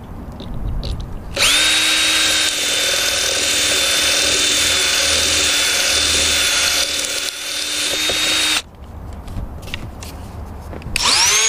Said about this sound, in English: I need to drill a hole back in here where the rudder shaft goes through